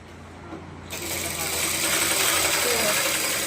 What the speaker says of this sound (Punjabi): ਕੈ ਮਸ਼ੀਨ ਹੈ ਇੰਟਰਲੌਕ ਦੀ ਕੈ ਮਸ਼ੀਨ ਪਈ ਹੈ